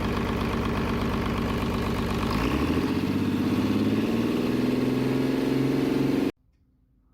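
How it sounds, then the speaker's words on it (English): A MAN D2676 diesel engine running on a motor test stand, a loud steady rhythmic chugging whose pitch shifts partway through before the sound cuts off abruptly. "At MAN D2676, motor tests are carried out to monitor startup behavior, sound, and vital parameters like oil pressure"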